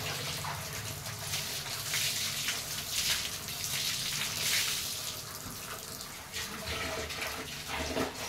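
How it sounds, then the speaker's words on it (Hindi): Water splashes and sloshes steadily as clothes are washed by hand, a close, continuous wet churning with occasional louder swishes and no talking. "ये है जी मेरे कपड़े धोने का तरीका।"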